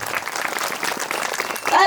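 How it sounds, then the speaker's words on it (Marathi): An outdoor kirtan audience breaking into applause, a dense burst of many hands clapping under a voice speaking. "त्यांच्यासाठी जोरदार टाळ्या झाल्या पाहिजे."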